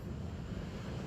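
Atlantic Ocean surf and wind on the shore make a brief, steady low rumble with buffeting wind on the microphone and no voices.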